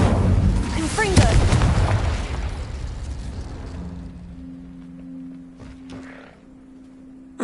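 Fiery spell blasts from Incendio and Confringo in Hogwarts Legacy, a burst of loud booming impacts up front that fade into a low sustained hum and faint magical crackles near the end.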